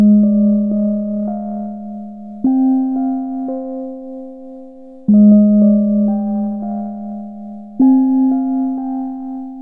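Korg Polysix analog polyphonic synthesizer from 1981 playing a patch with heavy filter resonance, giving a pure sine-like tone; sustained chords with glassy overtones change every few seconds, each note entering cleanly and holding steady without any talk.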